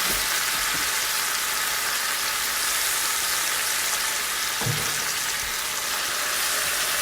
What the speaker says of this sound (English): I just want a good sear, then we'll get to cooking.